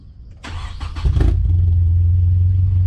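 A car cranks over with a few rapid starter bursts, then catches into a deep, loud exhaust rumble that settles into a steady low idle.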